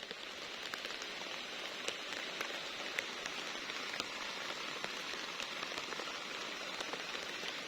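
Steady rain falls on a garden on a rainy morning, a dense, even patter of drops with scattered sharper taps, close and continuous with no voices.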